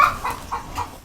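Rooster and other poultry in a farm enclosure holding purebred cocks, goats and fowl, giving a few short clucking calls in a steady series, fairly close and with no talk.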